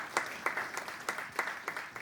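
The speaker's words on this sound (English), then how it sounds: "Let's give that a round of applause." Conference audience applauding, a thin, modest round of clapping with a few distinct sharp claps standing out at regular intervals, steady and fairly close throughout.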